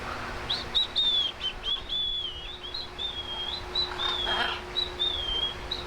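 A parrot whistles and chirps in a string of high, wavering calls over a steady low hum, fairly close and moderately loud, at Sunken Gardens in St. Petersburg, Florida.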